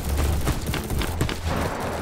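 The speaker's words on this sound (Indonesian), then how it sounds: "Apa benda tu tembak berterabur?" Dense, continuous gunfire from the online shooter Bad Business, a rapid clatter of overlapping shots over a low rumble, loud and steady for the whole moment with no talking.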